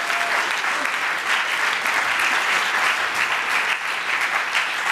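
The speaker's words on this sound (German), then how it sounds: "Also nochmal ganz besonders krassen Applaus dafür, für dieses Workflow-Management." Loud, dense applause from an audience at a youth hackathon presentation in Berlin, many hands clapping continuously and evenly without a break.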